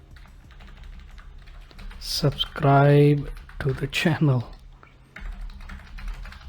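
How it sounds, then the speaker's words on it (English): Clicky computer keyboard typing while entering text for Microsoft Access VBA software, a steady run of keystrokes close by, partly under someone speaking. "I'm just typing in whatever you want to type."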